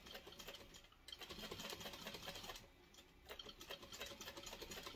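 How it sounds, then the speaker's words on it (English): A sewing machine stitches and back-stitches fabric for a pot holder, a fast steady mechanical whirr running nearly the whole time with a brief pause and slowdown, close and fairly quiet. "I am going to back stitch here because I don't want it to come loose as I handle it the rest of the way."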